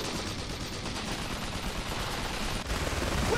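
Gunfire in the strategy video game Iron Harvest, a dense, continuous crackle of shots under a busy battle din, fairly quiet and steady with no clear pauses.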